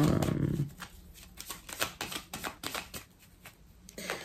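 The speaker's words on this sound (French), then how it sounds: "Je vais recouvrir quelques cartes pour vous." Tarot cards handled and laid out during a reading, giving a run of soft papery slaps and flicks close by, fairly quiet with uneven spacing and no talking.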